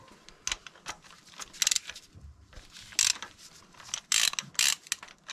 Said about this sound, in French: Là, je dévisse la bougie.